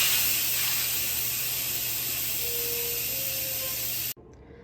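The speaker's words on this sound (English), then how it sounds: "so let's quick release the steam." An Instant Pot's quick steam release after pressure cooking baby potatoes gives a loud, continuous close hiss lasting about four seconds before cutting off abruptly into quiet.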